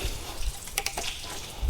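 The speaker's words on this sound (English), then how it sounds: "I forgot to plug the plug in the engine block. Now it's leaking." Coolant-free water trickles and drips from an unplugged car engine block onto a hard surface in a faint, irregular stream, with a few brief splashy taps and no talking.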